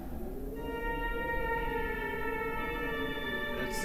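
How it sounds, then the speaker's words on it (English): A sustained eerie tonal melody, the moon song from the Fatal Frame horror game, with layered steady tones and a slowly wavering lower line, soft and continuous with no speech. "The moon song being a melody to let the spirit reach the moon."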